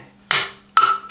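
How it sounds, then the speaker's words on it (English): Plastic parts of a G.I. Joe COBRA IMP model kit clicking together as they ratchet into place, two sharp close snaps about half a second apart, each followed by a brief fading rattle. "Some ratcheting action going on there."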